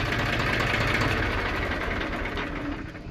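A Powertrac tractor's diesel engine idles nearby with a steady knocking chug, holding even and fairly loud before easing off slightly at the end.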